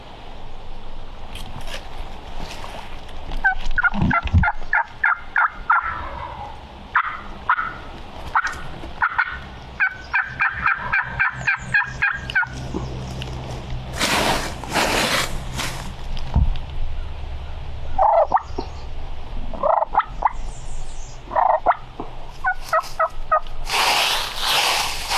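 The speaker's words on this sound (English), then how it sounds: "I can hear the gobbler drumming." A wild turkey gobbler gobbles repeatedly in thick woods, with loud rattling bursts in clusters at close range, separated by quieter gaps, with brief rustling and faint movement between calls.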